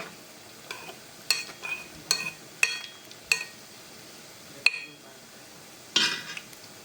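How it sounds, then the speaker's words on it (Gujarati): Methi gota fritters frying in oil while a spoon stirs them, with several sharp clinks of the spoon against the pan over a soft, steady sizzle. "આવી રીતના ચમચીથી પહેલાં હલાવવાના, પછી આપણે જારેથી ફેરવશું."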